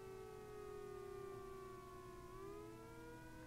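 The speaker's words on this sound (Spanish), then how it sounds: "Siempre estamos escuchando las sirenas de la policía" Police sirens wail faintly in the distance, a steady sustained tone that slowly bends downward in pitch and then rises again, heard alone at low level.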